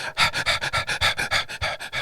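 A dog pants rhythmically within a song, giving about a dozen quick, breathy huffs in a steady beat, close and prominent, with no speech.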